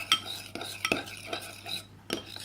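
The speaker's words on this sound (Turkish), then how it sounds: "Şöyle yakından karıştırıyoruz. Evet, böyle karıştırıyoruz yavaşça." Glue and water for fluffy white slime get stirred slowly up close, soft wet scraping strokes repeating in a gentle, uneven rhythm, quiet and near.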